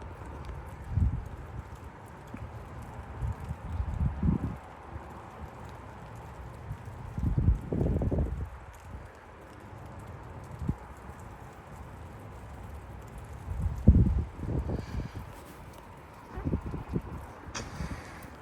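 Strong, gusty wind outdoors in Frisco, Texas, during a winter storm with sleet. Irregular low buffeting bursts of wind hit the microphone over a steady background rush, with no voices.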